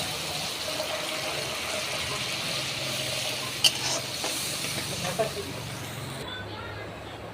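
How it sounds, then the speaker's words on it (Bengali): Spice paste sizzling and frying in a pan as water is added, a steady hissing sizzle with stirring scrapes and a couple of brief clinks, close and continuous throughout. "এবার দিয়ে দেবো জল।"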